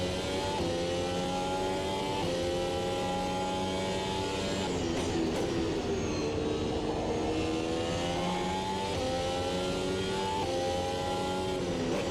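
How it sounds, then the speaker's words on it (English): A Formula Ultimate Gen 2 racing car engine in the video game Automobilista 2 revs hard and continuously, its pitch climbing through gear changes with brief dips between shifts, loud and sustained throughout. "that was full revs on the engine briefly, up through 4th and 5th gear"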